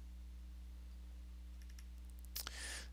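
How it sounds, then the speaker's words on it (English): A computer mouse gives a few faint, quiet clicks against a low electrical hum, the clearest near the end, followed by a soft hiss. "You want to click on that."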